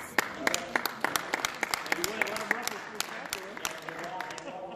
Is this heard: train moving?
no